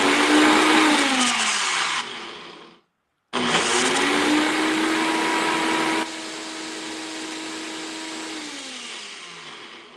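A high-power Vitamix blender whirs loudly through thick brownie batter, its motor pitch rising and falling, cutting out briefly, then restarting and running steadily before winding down.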